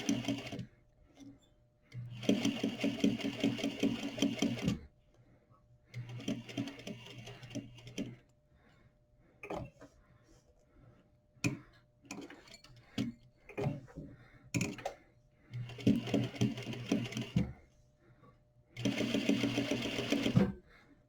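A sewing machine topstitches a patch pocket in several bursts of steady, rapid needle chatter, each lasting a few seconds and separated by short pauses while the fabric is repositioned.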